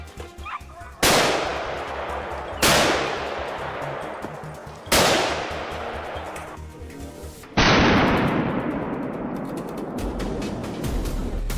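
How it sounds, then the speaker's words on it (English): During a wild boar hunt, loud hunting rifle shots ring out four times at irregular intervals, each sharp crack trailing into a long rolling echo, with faint background noise between them. "he pulled the trigger the instant his prey came into view. A swift, precise shot"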